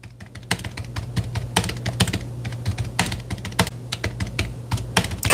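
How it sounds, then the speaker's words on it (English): Rapid, uneven typing on a computer keyboard, close and clear, with dense clusters of key clicks and a steady low hum underneath, no talking. "I am typing."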